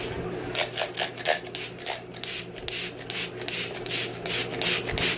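Several short hissing bursts of a setting spray bottle misting onto a face, close and rapid, with a few pauses between pumps.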